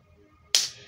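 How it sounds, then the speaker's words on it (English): A single sharp hand clap, close and fairly loud, standing alone against near silence. "I keep clapping like this"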